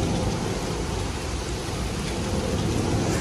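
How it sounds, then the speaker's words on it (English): Heavy rain falling at a Jamaican beach resort, a dense, steady hiss of downpour close by with low rumbling underneath, continuous and without talk. "it was raining too much"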